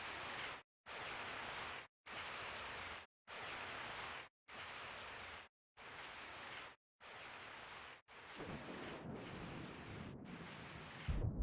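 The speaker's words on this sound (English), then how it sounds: "I woke up to the sound of falling rain" Rain pours with thunder in the Bio Hazard 3 video game, a dense broadband hiss arriving in repeated bursts split by short silences, then running unbroken near the end.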